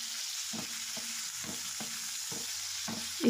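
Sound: chicken sautéing on high flame in pan

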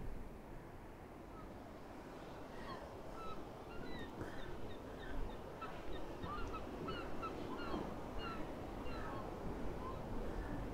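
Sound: seagulls calling

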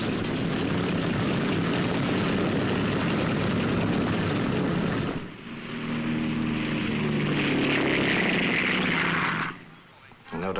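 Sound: propeller fighter aircraft of scrambled squadrons

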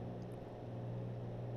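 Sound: aircraft engine sound, SR22 in X-Plane 11 video game

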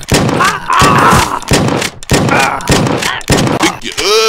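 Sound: shotgun firing in the video game Redneck vs Zombies

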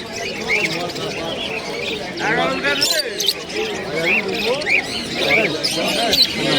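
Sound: pigeons cooing at a pigeon loft market

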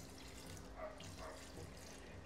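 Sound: water poured into pressure cooker with chicken gizzards

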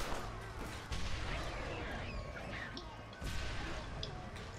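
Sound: explosions in Red Dead Redemption Undead Nightmare video game

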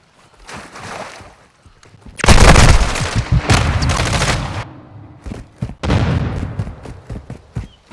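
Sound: gunfire in Warzone 2 video game

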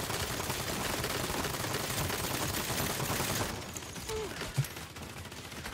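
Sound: enemy guns firing in video game Saints Row

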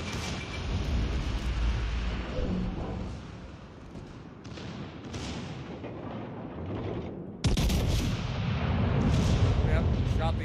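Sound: warship guns firing shells, from World of Warships Legends video game

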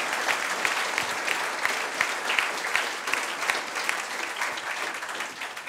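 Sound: audience applause at film museum event

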